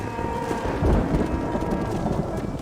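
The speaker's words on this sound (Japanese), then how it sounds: "また雨降ってきた" Steady rain with a low rumble of thunder swelling briefly in a Red Dead Redemption outdoor scene, a continuous wash of falling water filling the background with no speech.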